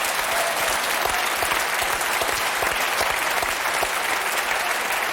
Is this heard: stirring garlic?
no